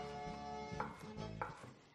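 Capsicums being sliced with a knife on a board give two faint, soft chopping taps against a low background hum.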